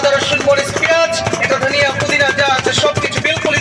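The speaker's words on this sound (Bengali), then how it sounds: "বক্সটা বন্ধ করে এখানে চপ করেন" A manual pull-cord vegetable chopper works on onion, garlic, ginger and green chillies in a closed box, giving rapid, loud, continuous whirring and clattering chops at close range.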